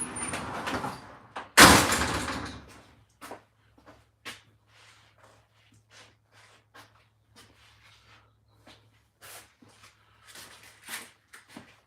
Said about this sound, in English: Let's shut the undisclosed location garage door.